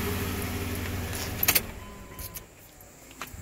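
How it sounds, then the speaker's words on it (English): A 2000 Dodge Dakota radiator fan whirs steadily, then cuts off, leaving quieter ambience with a few clicks and jangling sounds nearby. "That fan's running."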